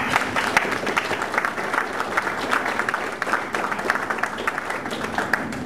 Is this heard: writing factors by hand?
no